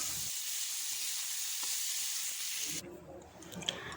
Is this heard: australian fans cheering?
no